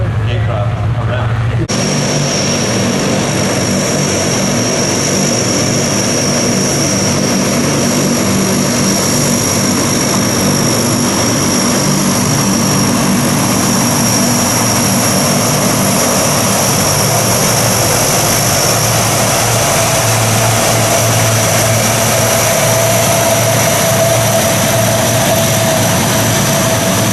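A gyrocopter flying at the Warbirds over Wanaka airshow in 2008, its engine and propeller giving a loud, steady droning roar close by for the whole stretch, someone talking over it at times.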